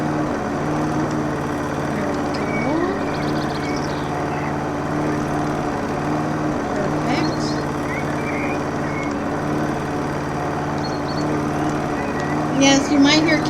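A lawn mower in the video game House Flipper drones steadily throughout with a constant engine hum, while a person talks over it and a cat meows faintly in the background.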